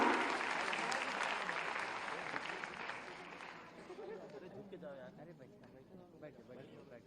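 Applause from an audience at a job fair inauguration in Gorakhpur, loud and dense at first, then thinning and fading as scattered claps and murmuring voices remain toward the end.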